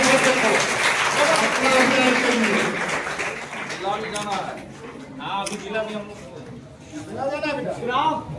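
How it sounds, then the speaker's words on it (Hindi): An audience at a block-level quiz competition claps for a young first-prize winner, dense applause at first that thins into scattered claps while people chatter and talk nearby. "बहुत छोटा बच्चा, ताली बजाइए।"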